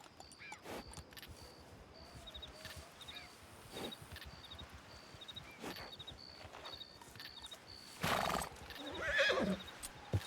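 A horse whinnies and its hooves clip-clop in an irregular rhythm nearby, mostly faint, while a dog yelps and whimpers and louder rustling bursts near the end.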